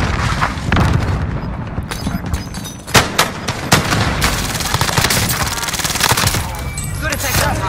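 Gunfire in Call of Duty Warzone, Cold War era with a MAC-10 loadout: dense, rapid automatic bursts and booming impacts, loud and close, with a voice speaking amid the shooting.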